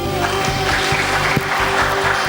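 Audience applause at a motivational talk, a steady wash of clapping throughout with a few sharper claps standing out and a faint tonal hum underneath.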